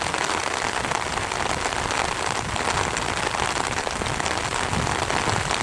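Steady, dense rain pours down outdoors during a German Shepherd's tracking session, a constant close hiss of drops striking the ground throughout with no talking.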